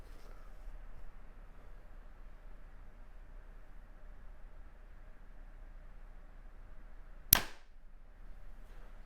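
Hoyt compound bow shooting an arrow, one sharp quiet snap of the release against near silence, with faint background hiss before and after.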